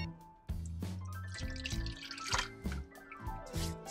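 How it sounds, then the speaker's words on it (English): Chickpea water for a vegan meringue is poured into a container, giving a series of close, quiet splashes and drips with irregular liquid gurgles. "We're gonna put our chickpea water in."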